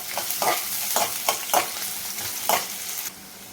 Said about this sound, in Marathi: त्यानंतर कांदा घालते कांदा परतून घ्यायचा आहे